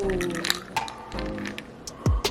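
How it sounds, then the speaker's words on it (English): A holiday cocktail pours from a shaker into a glass in a few short liquid splashes and drips, close up, with brief voices and a clink around it. "pour that in here like so"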